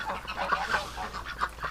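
Ducks calling outdoors on a damp winter day, a quick run of raspy quacks and honks close by, repeated over a couple of seconds with no talking.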